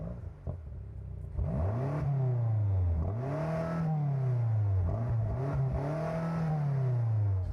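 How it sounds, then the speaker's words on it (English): A BMW M5 CS engine is revved repeatedly while stationary, with several rising and falling throttle blips that flare up sharply and settle back to idle, heard up close. "Come on, rev it up."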